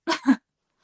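A person sneezes once, close by, in a quick two-part burst followed by silence.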